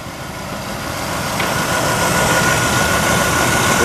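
A Cadillac engine with a large alternator idles steadily and close by, a continuous even rumble that swells slightly louder over the first seconds and then holds.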